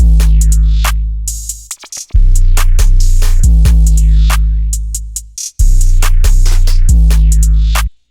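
Bouncy, simple drum beat with a deep, sustained alien-style 808 bass, built in FL Studio for a wonky beat: crisp hats and snares over long booming bass notes that drop out briefly, loud and close with no voices.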